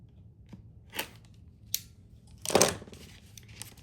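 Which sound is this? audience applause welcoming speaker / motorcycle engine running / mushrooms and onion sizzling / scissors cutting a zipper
scissors cutting a zipper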